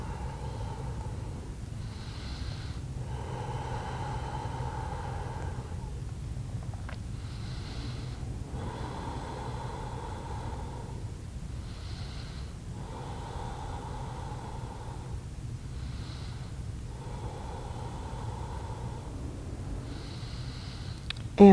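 Slow, steady yoga breaths repeat about every two and a half seconds, each a soft airy inhale and exhale, close to the mic over a constant low hiss, with no talking.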